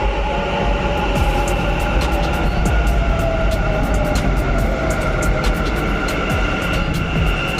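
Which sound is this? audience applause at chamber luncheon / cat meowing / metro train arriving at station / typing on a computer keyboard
metro train arriving at station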